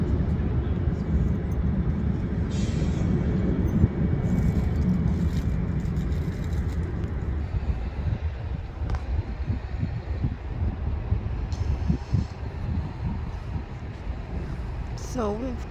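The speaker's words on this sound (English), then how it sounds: "So we've got 2 aircraft that's taxiing out" Aircraft taxiing out at Birmingham Airport produce a steady low engine rumble with wind noise, loudest early and then easing, while someone talks over it.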